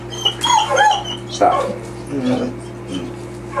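A dog whimpers and gives a few short yips and barks close by, breaking off and returning over a low steady hum, while a person speaks briefly.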